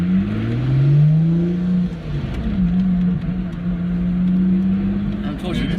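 A Lotus Exige S V6 sports car drones and revs from inside as it drives and accelerates, its engine note rising and falling steadily throughout while people talk over it.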